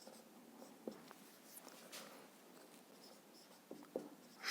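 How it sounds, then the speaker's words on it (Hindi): Pen scratching on paper while writing a scientific name for a flower by hand, faint quiet strokes with a few soft taps, close and low in level, with no voices. "लिख लेते हैं"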